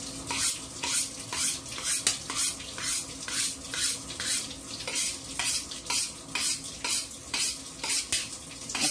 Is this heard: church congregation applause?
no